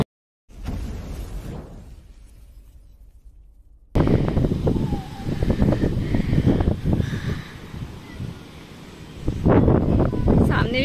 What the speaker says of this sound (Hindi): ये देखिए कितनी अच्छी हवा चल रही है।